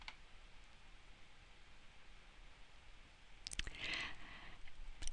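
A few sharp computer mouse clicks while selecting a Cite button in a research database, faint against steady hiss, clustered near the end.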